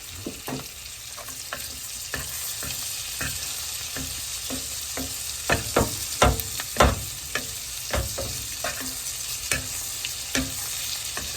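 A burger frying in butter in a pan inside an RV kitchen, a constant close sizzle broken by sharp spatters and a few louder pops near the middle, with no voices.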